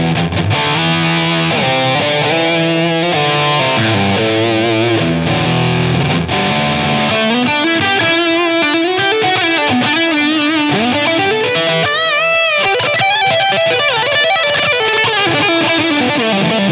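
Heavily distorted electric guitar through a Line 6 Helix Ratatouille distortion model, playing a continuous riff with sustained chords and shifting notes, loud and close, no voices.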